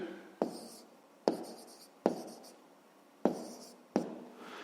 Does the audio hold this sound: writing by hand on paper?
yes